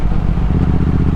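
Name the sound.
Triumph Speed Twin 1200 motorcycle engine while riding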